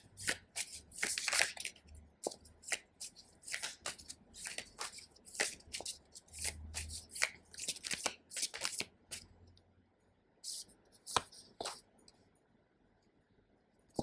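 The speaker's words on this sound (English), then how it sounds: "I'm gonna pull out a few cards." Tarot cards being shuffled and drawn, a run of quick crisp riffling flicks and snaps in bursts, close and fairly quiet, thinning out toward the end.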